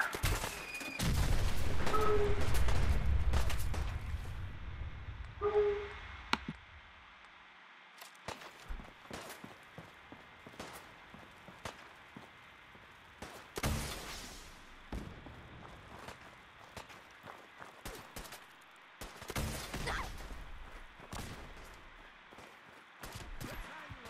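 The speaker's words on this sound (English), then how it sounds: "I moved over to the quad rocket launcher." A quad rocket launcher fires in Fallout 4: a loud opening blast and rumble are followed by a long series of sharp bangs and explosions of varying loudness, some near and some farther off, with quieter gaps between them.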